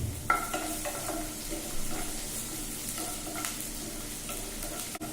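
Onion frying lightly in hot oil, with a steady sizzle and repeated stirring scrapes and clinks against the pan, close and clear, with no voices.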